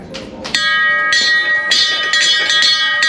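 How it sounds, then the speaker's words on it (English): A bell rung at a Harley-Davidson dealership to celebrate a new owner buying a 2022 Sportster S: a bright, sustained metallic ringing with several struck peaks over about three seconds, loud and close. "As a new Harley-Davidson owner, let's ring that bell."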